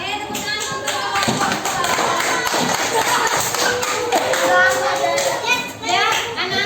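Children in a classroom clap continuously in a dense, steady patter, with lively chatter and voices of kids mixed throughout.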